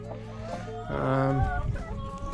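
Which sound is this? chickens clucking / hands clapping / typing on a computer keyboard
chickens clucking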